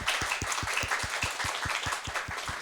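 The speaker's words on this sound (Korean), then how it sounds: "우리 박수 한번 쳐주시겠습니까?" An audience at a seminar on ASEAN textile culture claps together in a steady, rhythmic unison beat, about six claps per second, fairly close and even, with no talk over it.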